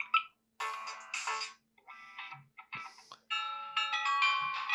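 Several different Samsung Galaxy A16 ringtones play one after another, bright chiming and electronic melodies separated by short pauses, clear and close.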